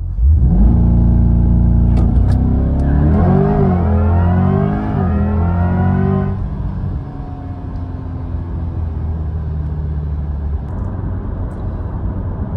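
A C8 Corvette launches from a standstill with traction control off, giving a loud close engine roar that climbs through rising revs and a gear change, then settles into a steadier, quieter drone.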